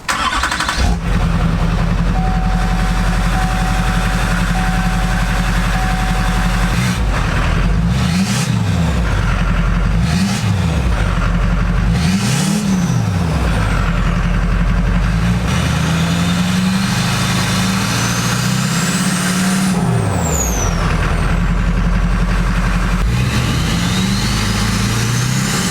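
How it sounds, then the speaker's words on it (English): A modified, untuned Minimax car engine idles roughly, with repeated revs that rise and fall in sharp swoops. It runs loud and close throughout, with no voices. "From an engine sound perspective though, things do sound a little bit different."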